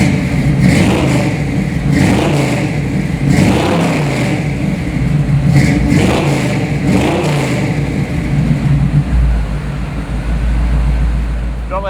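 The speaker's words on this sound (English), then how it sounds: "let me fire it up for you because we listened to it once before. Let's listen to it again and I'll rev it up a little bit" A 1964 Chevrolet with a fuel-injected 5-liter engine revving hard in repeated loud, close surges that rise and fall over a rough idle, followed by a low rumble near the end.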